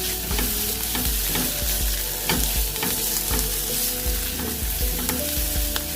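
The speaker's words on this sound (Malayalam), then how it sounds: "മല്ലിയില ഇട്ട് കൊടുത്തിട്ട് നമ്മളൊന്ന് ഇളക്കുക" Coriander leaves being stirred into egg roast masala frying in a pan, a dense loud sizzle with rapid repeated scraping and stirring strokes throughout, close up, no talking.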